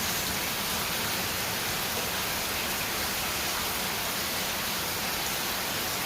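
Rain falls steadily outdoors, a dense, even hiss of drops on surfaces that stays constant and fairly loud throughout, with no voices.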